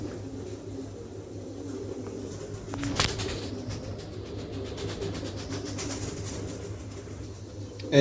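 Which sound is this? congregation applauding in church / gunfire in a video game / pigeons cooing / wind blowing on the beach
pigeons cooing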